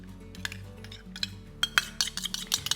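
Milk and yogurt are whisked together in a vessel, giving quick metallic clinks and scrapes of the whisk against the sides that grow busier and louder toward the end.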